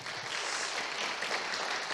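A Korean church congregation at Sunday worship claps to welcome a young visiting man, a member's brother staying on a working holiday; brief, dense, even clapping continues throughout at moderate loudness.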